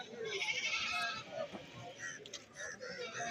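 Goats bleat at a busy livestock market in Kerala, several calls rising over a dense crowd murmur and people talking nearby.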